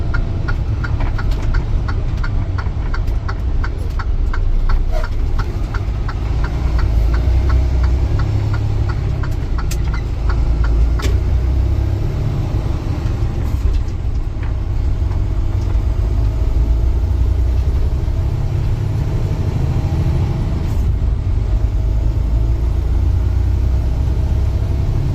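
A 2025 Freightliner truck with a Detroit engine runs while driving, a loud, steady low rumble throughout, with a rhythmic ticking, likely an indicator, for several seconds and no talking.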